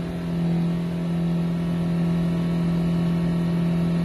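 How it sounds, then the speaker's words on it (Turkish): A car engine held at full throttle during an exhaust emission test, giving a loud, steady high-rev drone with a strong constant pitch that runs alone and unbroken throughout. "Evet, tam gaz bastık."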